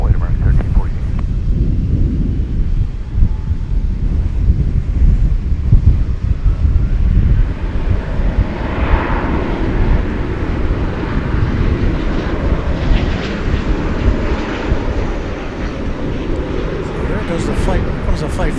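An airliner takes off at DFW Airport, a loud sustained engine roar with wind buffeting the microphone throughout, steady and continuous for the whole stretch.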